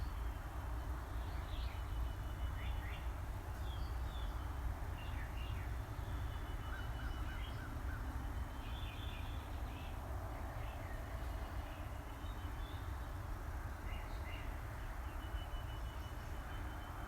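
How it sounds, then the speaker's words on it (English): Birds singing at sunrise in The Villages, Florida, with faint, scattered chirps and short trills drifting over a steady low background hum. "Listen to the birds."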